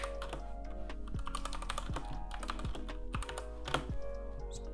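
Fast typing on a Redragon K596 Vishnu mechanical keyboard with red switches, a quick run of close, crisp key clacks and bottoming-out thuds in an irregular rhythm, with no talk.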